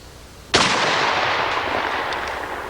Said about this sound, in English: Start off with regular double-aught buckshot, and we'll shoot the bottom part of the first target with the Van Comp barrel in place.